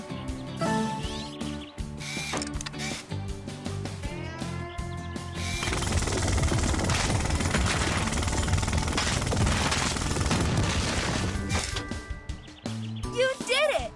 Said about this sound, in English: Let's find where the path is blocked so Rubble can clear it with his jackhammer